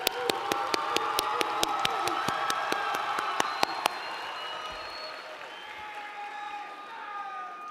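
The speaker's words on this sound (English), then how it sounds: "give yourself a round of applause" A graduation audience at a high school ceremony bursts into loud applause and cheering, with a few sharp close claps and whoops early on, then settling into steady crowd clapping that gradually thins.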